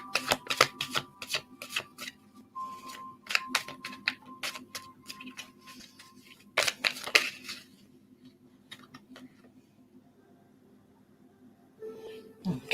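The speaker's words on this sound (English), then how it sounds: "Trying to shuffle my tarot" Tarot cards being shuffled by hand in bursts of quick crisp flicks and riffles during the first half and again briefly near the end, with quieter handling and a faint low hum in between.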